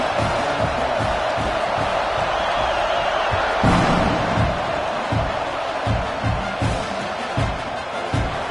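A football stadium crowd roars before kickoff at a college game between Mizzou and Oklahoma, a dense, sustained wash of cheering with scattered thumps and shouts, loud and continuous throughout.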